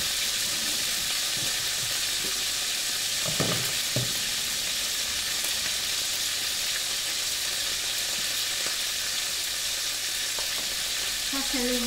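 Rice fries in a pan with a continuous close sizzle and occasional stirring scrapes, steady throughout with no talk.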